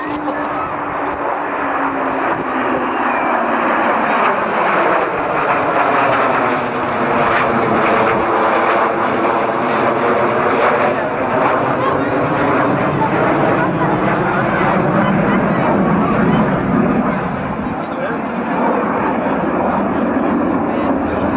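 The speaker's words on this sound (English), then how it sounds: "I'll just let you watch the noise and sound of these aircraft" A Hawker Hunter jet roars loudly overhead at an airshow, its pitch sweeping down as it passes, with faint crowd voices underneath the continuous engine noise.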